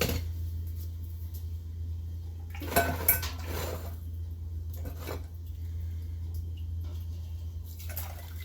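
Chicken broth tipped carefully through a fine strainer, with a spoon clinking against metal and a pot tapping, heard as a few sharp clanks and scrapes over a low steady hum, with faint dripping between.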